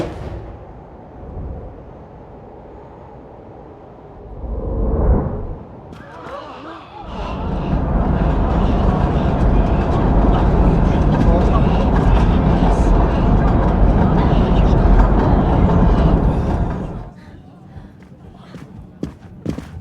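A train runs through a tunnel in the Murder on the Orient Express video game, a loud sustained rumbling roar lasting about ten seconds after quieter moments, then cutting off abruptly.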